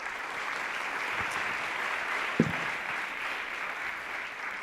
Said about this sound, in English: Quick round of applause for Marc.